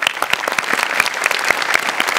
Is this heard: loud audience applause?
yes